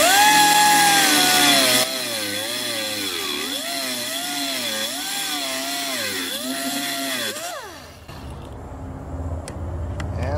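A power tool cuts through a metal antenna element for a dual-band 2m/70cm vertical dipole, throwing sparks; a loud, steady whining grind wavers in pitch under load, then winds down and stops near the end.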